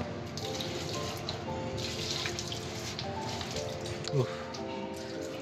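Water pours steadily while plants are watered in hot weather in Bangalore, a soft continuous splashing flow at low level, with a brief louder splash near the end.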